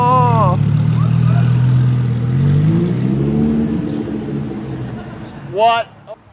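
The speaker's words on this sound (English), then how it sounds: "Yeah, give me a rev." A car engine revs under steady mid-range engine noise, with a voice talking over the start and a brief louder burst near the end.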